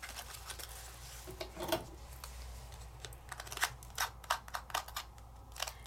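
Coated specialty paper for alcohol markers is handled and shifted, giving faint, crinkly, plastic-like rustles and small clicks in irregular bursts, quiet and close.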